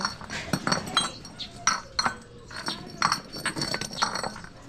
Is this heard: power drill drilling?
no